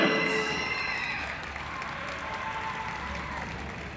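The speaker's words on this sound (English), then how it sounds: "Let's give a big round of applause for all of our seniors and their parents." Applause at a high school senior night, Kahok basketball game versus Granite City, a loud burst of crowd clapping in a gym that slowly fades over four seconds.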